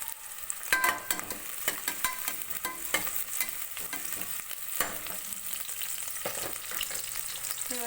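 Onions and garlic frying in oil in a pan for ghee rice, a steady crackling sizzle broken by sharp scraping stirs of a spoon, close and continuous with no talking.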